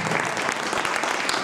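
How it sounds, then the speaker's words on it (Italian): Audience applause for the poet Antonietta Gnerre at a poetry event, a dense, steady burst of clapping from many hands filling the whole moment with no talk over it. "Un applauso a Antonietta."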